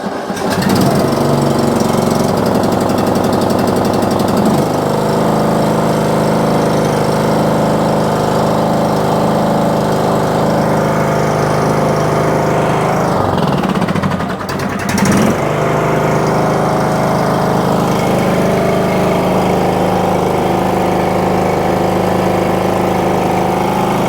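Old lawn mower engine running, a loud steady close-up drone with a brief dip and stumble midway before settling back into an even idle.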